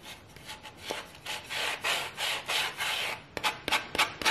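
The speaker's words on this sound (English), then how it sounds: "I'm just gonna go around the edges just to give it a quick little distressing." Rhythmic back-and-forth rasping of a sanding block along the painted edges of a wooden pumpkin, a dozen or so close, steady strokes distressing the crackle finish, with no talking.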